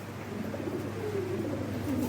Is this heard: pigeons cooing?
yes